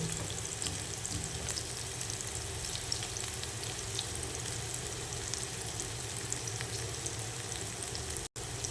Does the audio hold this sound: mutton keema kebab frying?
yes